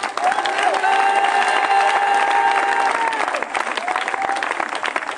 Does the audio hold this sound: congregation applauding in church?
yes